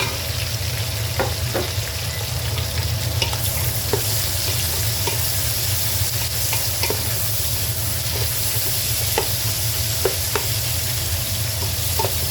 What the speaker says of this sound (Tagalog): Kaya ko siya ginigisa or sinusupi para yung lasa ng sibuyas saka laya lumabas.